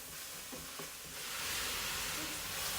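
Fat sizzling in a hot pan beside meat, a soft steady hiss swelling louder partway through, with a couple of light clinks early on.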